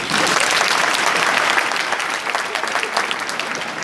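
An audience at Oral Roberts University claps hands loudly and continuously, a dense, sustained wash of applause with a few louder individual claps standing out.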